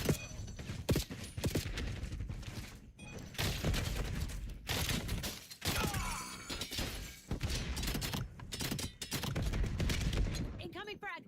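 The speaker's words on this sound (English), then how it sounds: "I'm under fire" Gunfire in Black Ops 7 at the end of a game: dense, loud bursts of automatic fire, single shots and impacts come almost nonstop, with brief gaps, breaking glass and mechanical clatter, and voices speaking through it.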